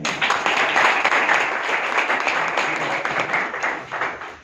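Audience applause at a results event where selected bank assistant candidates give speeches, a loud crowd of many hands clapping steadily and then tapering off near the end.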